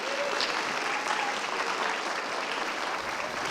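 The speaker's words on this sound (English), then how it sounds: "Let's give him a nice round of applause and welcome." Audience at a school Broadway revue claps in welcome for an acting superintendent, an even, sustained patter of many hands filling the hall at moderate loudness without a break.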